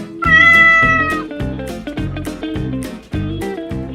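A cat meows loudly and close, one long drawn-out cry followed by a string of about six shorter, evenly spaced meows, each strongly tonal and whining, with no voices.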